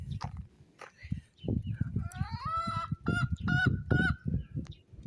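Shaggy hens and a rooster at a small village yard give off clucks and short honking calls in scattered bursts, close by and fairly clear, with no talk.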